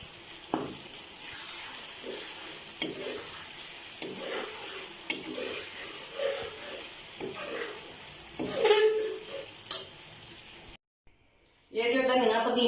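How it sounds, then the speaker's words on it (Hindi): Ginger garlic paste fries for a chicken karahi, a steady sizzle with repeated scraping strokes of a spoon stirring the pan, a brief silent break near the end, then louder sizzling resumes. "अब इसमें अदरक लहसुन का पेस्ट डाल के 10 मिनट के लिए और भूनूंगी मैं।"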